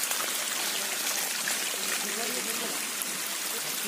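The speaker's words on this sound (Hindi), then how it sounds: "बारिश बहुत तेज से हो रहा है" Heavy rain falls outdoors on a hillside path with water rushing nearby, a dense, steady hiss of drops and flowing water that continues throughout at moderate loudness, with no clear voices.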